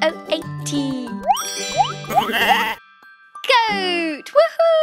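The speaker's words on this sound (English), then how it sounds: "Goat. G-O-A-T." A cartoon goat bleats in a children's farm puzzle game, wavering calls sounding twice amid playful synthesized boings and jingles, with a narrator talking over parts.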